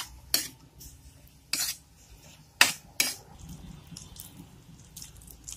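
Pork meat being stirred in a cooking pan: a few sharp, close utensil scrapes and clinks against the pan at irregular intervals, over a quiet background with faint soft sizzle.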